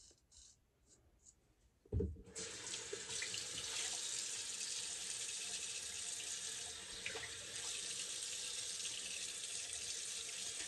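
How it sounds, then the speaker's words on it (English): Water gushes from a sink tap as a small kitchen gadget is rinsed, a close, steady splashing stream that starts abruptly after a few quiet clicks and runs on without a break. "you kind of have to rinse it out after each pass"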